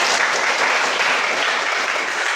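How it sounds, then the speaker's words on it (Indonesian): A classroom group gives steady, even applause, a continuous wash of many hands clapping with no talk on top. "Berikan dulu tepuk tangan"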